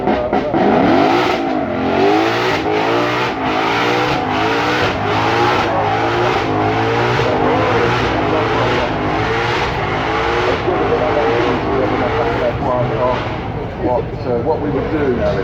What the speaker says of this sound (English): the BMW makes its way towards the top of the hill